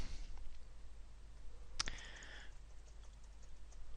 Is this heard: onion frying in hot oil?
no